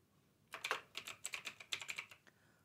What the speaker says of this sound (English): Just now I'll type the syntax for statement.